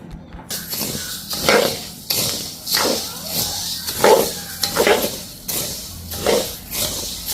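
Coriander seeds dry roast in a pan, stirred in a steady rhythm of loud, close scraping and rattling strokes, roughly one every second.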